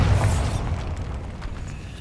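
A Bombarda blasting spell explodes in a video game, one loud burst at the start fading into a rumbling, crackling decay.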